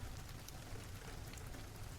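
Steady spring rain falling, a soft continuous hiss of drops with low rumbling texture, unbroken and without any voices.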